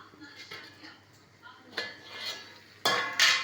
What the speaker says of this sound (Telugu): ఇగో ఇలా దీన్ని ఒక 10 నిమిషాలు మూత పెట్టాలి